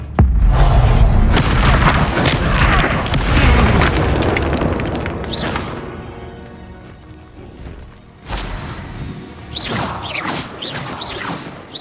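Confringo fire spell explosions in Hogwarts Legacy combat: loud booming blasts with whooshes and crashing debris, densest at first, fading, then several sharper bursts near the end.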